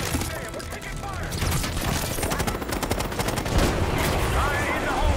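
Video game gunfire in the Black Ops 6 campaign, dense rapid automatic shots and clattering weapon mechanics crackling continuously at close range, with voices and game effects mixed in.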